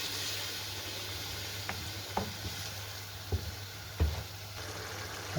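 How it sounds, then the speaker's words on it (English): Lamb madras with a cup of added water stirred around a hot pan, a steady low simmering hiss with a few soft scraping knocks of the spoon against the pan. "And just stir it all round. Get all the caramelisation off the pan."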